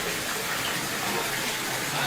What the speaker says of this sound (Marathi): तुळजाभवानी मंदिर परिसरातला हा झरा पुन्हा एकदा प्रवाहित झालेला आहे